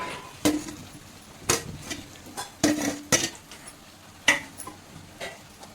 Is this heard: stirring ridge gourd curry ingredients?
yes